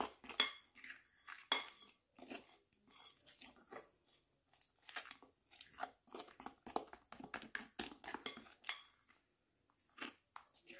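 Banana cake batter, gluten- and dairy-free, is mixed by hand with a fork in a bowl, giving quick irregular clinks and scrapes of metal against the dish, close and fairly loud, with brief pauses between bursts.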